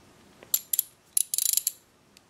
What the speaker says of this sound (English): I'll take a 10mm Allen wrench, and I'm going to attempt to take out the